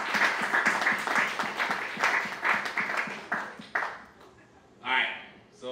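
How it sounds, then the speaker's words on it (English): A crowd gives a round of applause for Keiko and the Puerto Rican Blockchain Trade Association, rhythmic clapping that fades after about four seconds, followed by a brief voice. "let's give them a round of applause, please"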